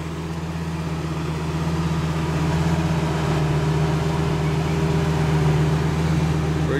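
The convertible top of an 08 Lamborghini Gallardo Spyder with a V10 opens with a steady mechanical motor whir and hum that rises slightly and holds, close and continuous with no talking.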